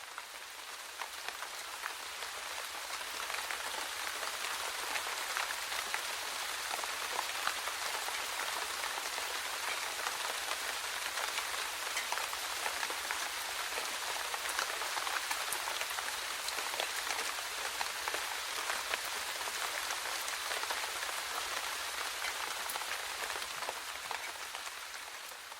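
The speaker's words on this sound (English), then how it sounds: "let's listen to some rain" Steady rain falling, a dense, even hiss of drops hitting a surface that holds at moderate loudness for the whole stretch, with no voices.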